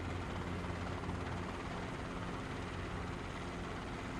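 Helicopter taking off in Microsoft Flight Simulator 2020, a steady, moderately quiet rotor and engine drone with a low pulsing hum and airy wash, unbroken and without voices.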